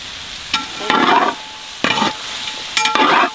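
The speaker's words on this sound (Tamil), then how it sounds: "சேனக்கிழங்கு நல்லா வறுபட்டுருச்சு" Elephant foot yam frying with masala in a pan gives three loud, close bursts of stirring scrapes and sizzle, evenly spaced. A low, steady frying hiss carries on between the bursts, and no one speaks.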